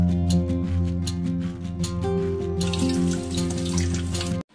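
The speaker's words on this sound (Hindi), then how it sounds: "ये मशीन चालू हो गई है पानी यहाँ से निकलना शुरू हो गया है" A home washing machine runs with a steady humming motor while water flows out of it in a continuous rushing, splashing stream, close and fairly loud, ending abruptly.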